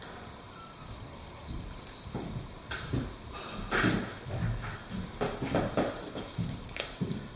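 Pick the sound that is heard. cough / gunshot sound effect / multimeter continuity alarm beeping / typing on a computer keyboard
multimeter continuity alarm beeping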